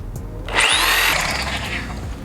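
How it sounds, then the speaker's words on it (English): A small jigsaw cuts wood for a chicken coop interior, starting with a sharp whining buzz after a brief pause and then running steadily at close range for under two seconds. "Just a little jigsaw."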